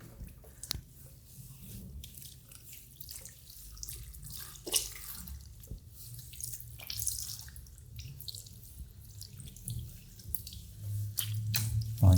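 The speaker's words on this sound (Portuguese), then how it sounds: "Vamos lavar esse cabelo novamente, enxaguar, né, no caso, e passar o shampoo novamente." Water running and splashing as shampoo is rinsed out of hair at a barber's sink, a steady soft wash with scattered drips and squishy rubbing sounds throughout.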